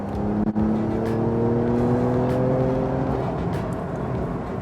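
A Porsche 992 911 3-litre flat-six turbo engine revs with a steady rising whine, loud and close, holding its pitch for several seconds before easing off.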